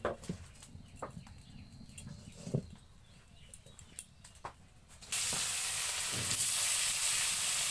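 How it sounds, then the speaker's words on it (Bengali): Rohu fish frying in hot oil in a wok for a curry with potatoes: faint crackles and pops at first, then a sudden loud, continuous sizzle that fills the rest, close up with no talk. "গরম তেলের ভেতরে মাছটা ছেড়ে দিয়েছি কষানোর জন্য"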